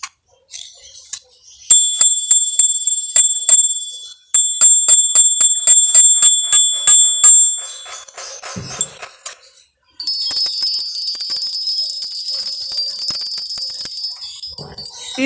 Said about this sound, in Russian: тональность колокольчиков.